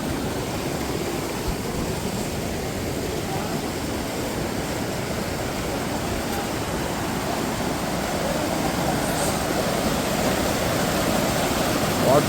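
Water rushing steadily at a waterfall in Kullu, a continuous broadband roar with no breaks, moderately loud and unchanging throughout, with no voices standing out.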